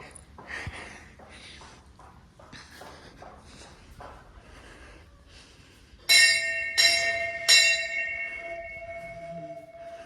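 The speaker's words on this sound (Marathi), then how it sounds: "1300 किलोचा हा घंटा आहे." A large 1300 kg temple bell in a village rings loudly and close, struck about three times in the second half, each strike leaving a long sustained metallic hum, after quieter shuffling footsteps and faint background voices.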